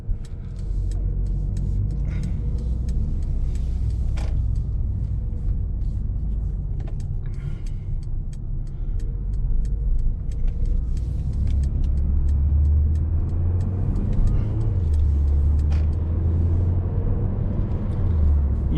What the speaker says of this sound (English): And let's take the car for a spin.